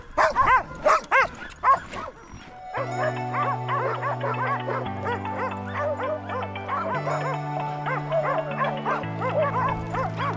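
Sled dogs bark at a frozen open-air market in extreme cold, with several sharp, close barks and yips in quick succession over the first two seconds before steady music takes over.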